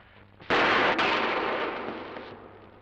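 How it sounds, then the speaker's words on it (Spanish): A single loud gunshot bursts out sharply, then rings with a long, slowly fading echo over a couple of seconds. "disparo."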